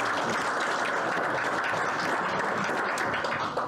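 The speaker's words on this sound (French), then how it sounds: "J'aimerais ça qu'on l'applaudisse" An audience at an evening event applauds, producing a dense, even wash of clapping that holds steady for a few seconds at moderate volume, with no voices on top.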